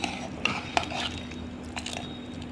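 A spoon scrapes and clinks against a metal pot as thick cooked toor dal is stirred, a few sharp taps amid soft scraping.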